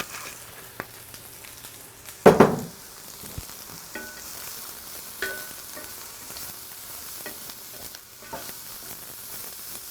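Olive oil sizzling in a pan while cooking for a beef bolognese, a soft, fairly quiet fry punctuated by one loud clattering knock of a utensil early on and a few lighter taps.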